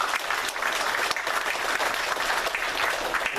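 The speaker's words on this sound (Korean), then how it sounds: "우리 이성원 집사님 환영의 박수 하도록 하겠습니다" A church congregation at Sunday worship applauds to welcome a newly registered member, steady continuous clapping from many hands filling the room at moderate loudness without talk.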